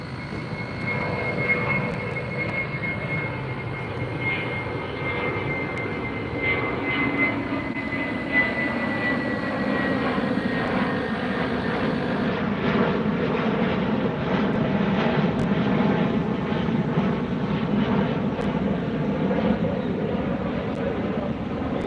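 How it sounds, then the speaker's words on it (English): An SAS Airbus A350 jet taxis for departure at LAX, its engines giving a loud, steady roar and whine that holds for over twenty seconds, heard from a nearby beach at sunset. "I see the SAS Airlines Airbus 350 taxiing up for its departure."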